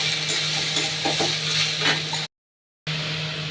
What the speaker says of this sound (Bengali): চাল কুমড়ো দিয়ে এবার নাড়াচাড়া করে